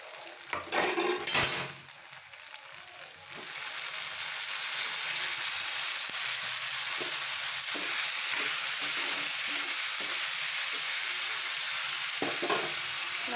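Fish sizzles loudly as it fries in a pan of hot oil for an Assamese sour fish curry, with brief stirring clatter near the start before a steady, continuous frying hiss takes over.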